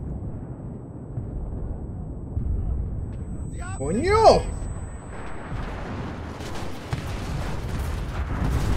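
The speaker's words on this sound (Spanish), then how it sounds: "¿Cómo demonios llegan los tiros de los putos tanques aquí?" Tank cannon fire in the World War II shooter Enlisted, set in a Normandy invasion battle: a loud booming blast with a whistling, sweeping tail over constant battlefield rumble, followed by dense crackling gunfire, while a man curses once.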